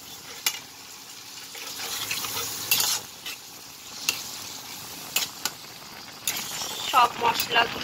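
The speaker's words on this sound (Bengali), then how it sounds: "সব মশলাগুলা একটু আমি ভাজা ভাজা করে ভেজে নিব" Spices fry in hot oil in a pan as young jackfruit curry is being cooked, a low sizzle broken by sharp stirring scrapes and clinks while a voice talks over it.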